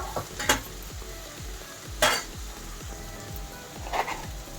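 Green peas and meal maker stir-fried with salt in a pan, with repeated scraping stirs of a spatula and a few brief bursts of sizzling, close and moderately loud, no talk.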